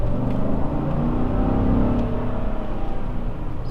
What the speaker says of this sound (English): So when you get on it, you get a little bit of that V8 sound, but it's really nothing pronounced.